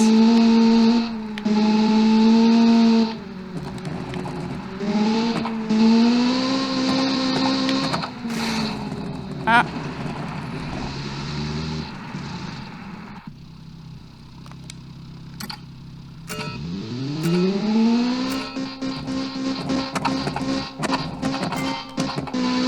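Race cars in the River Rally video game whine as engines rev up and down through repeated rising and falling pitch sweeps, with shifting intensity and a quieter stretch midway, no talking over it.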